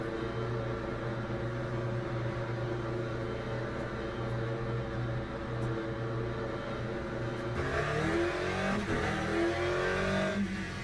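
A race car in the sim racing game Le Mans Ultimate pulls out of the pits, its engine humming steadily and then rising in pitch as it speeds up.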